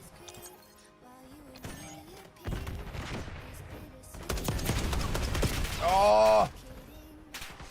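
Rapid automatic gunfire in Call of Duty rattles loudly for a few seconds in the middle, with fainter shots before it and a short shouted exclamation near the end.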